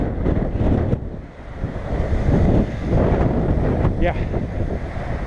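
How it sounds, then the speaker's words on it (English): Strong gusty wind outdoors near a weeping willow buffets the microphone in heavy, uneven rushes, with a brief spoken word partway through. "the wind has been insane. It kicked up a couple hours ago."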